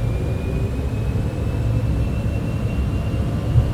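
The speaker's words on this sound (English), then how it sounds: "I'm going to shut up and let you listen to this airplane because it sounds absolutely awesome" Cessna Citation X twin jet engines in Microsoft Flight Simulator 2024, running on the runway just before takeoff, giving a steady, loud, close rumbling roar with a faint high whine and no pauses.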